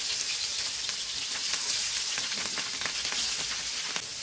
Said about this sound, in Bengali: তো এবার একটা প্যানে আমি সয়াবিন তেল দিয়ে মাছটা হালকা করে ভেজে নিব।